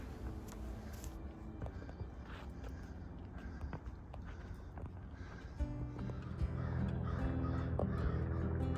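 Crows cawing on a hike through Cedar Ridge Preserve, several scattered calls over footsteps, followed by a rising low rumble late in the clip.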